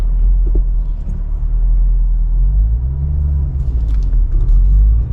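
A vehicle engine runs on a test drive after shift repair work, a loud low rumble that swells and dips as the revs rise and fall, heard close with no talk over it.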